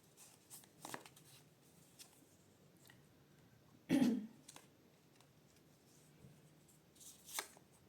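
Tarot cards being drawn and handled give quiet, scattered rustles and flicks, with one louder card snap near the middle and a couple of softer shuffles toward the end.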